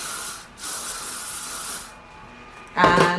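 Hairspray hisses from an aerosol can onto hair in one long close burst of about a second and a half, then stops, followed by a brief voice.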